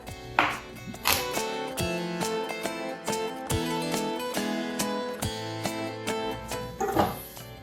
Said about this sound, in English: You can just coarsely chop your fennel.